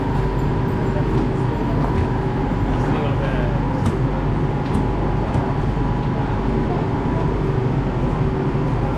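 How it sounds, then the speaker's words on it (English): A train arriving at a station rumbles loudly and steadily, a constant heavy roar of rail noise with no clear pauses. "here comes our train"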